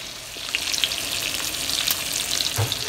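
Beef intestine frying in a pan until toasted, giving a steady close sizzle with faint crackles and a brief low knock near the end, no voices.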